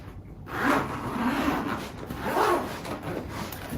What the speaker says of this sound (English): Let's unzip the case